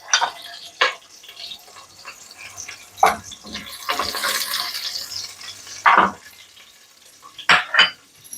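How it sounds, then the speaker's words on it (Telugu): Onion pieces frying in a pan with cloves and cinnamon for chicken curry, soft sizzle under intermittent sharp clinks and scrapes of a spoon stirring against the pan. "ఈ ఉల్లిపాయలు నేను వేయించుకొని తీసేస్తున్నాను."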